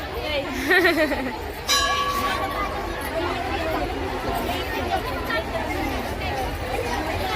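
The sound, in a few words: large crowd chattering at a Makar Sankranti gathering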